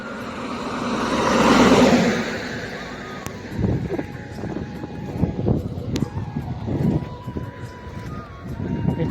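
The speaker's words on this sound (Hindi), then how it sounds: "केतेटी गाड़ी पूरा फुल स्पीड रे जाउची" A vehicle speeds past on a highway with one loud whoosh that swells and fades in the first few seconds, followed by wind buffeting and people talking.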